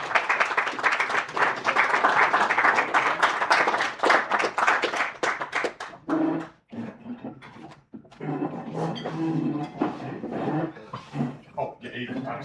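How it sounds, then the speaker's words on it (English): A room of Kiwanis club members gives a warm round of applause for a police chief, dense clapping for about six seconds before it breaks off into scattered claps and people talking. "Please give a warm Kiwanis applause."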